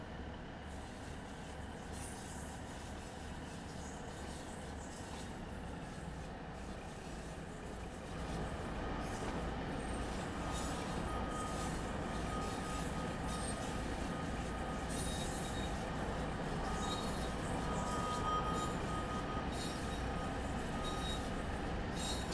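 Simulated train running on the West Cornwall line toward St. Erth in Train Sim World 2, a steady close rolling rumble with rhythmic wheel-on-rail clatter that grows slightly louder partway through, no voices.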